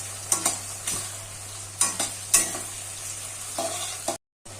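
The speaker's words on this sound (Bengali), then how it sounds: "সসগুলো দিয়ে ভালো করে নাড়াচাড়া করতে হবে।" Chili chicken in green chili sauce sizzles in a pan while a spatula scrapes and knocks against it in several distinct strokes, with a steady hum beneath and a short gap near the end.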